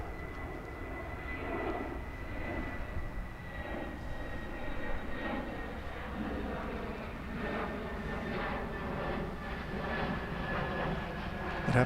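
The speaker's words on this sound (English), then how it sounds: "This one's going to Phoenix. It's an Airbus A320, flight 1971." An Airbus A320 airliner at DFW International Airport produces a steady, moderately distant engine roar and whine that holds evenly for several seconds.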